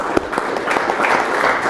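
An audience at an entrepreneur and small business community event gives a guest a round of applause, a steady wash of clapping from a small crowd lasting under two seconds, fairly close and even.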